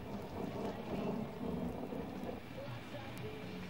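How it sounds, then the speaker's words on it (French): Steady rain and low rolling thunder fill a dark stormy night, a constant close wash of noise with no clear breaks. "c'était par une nuit noire d'orage"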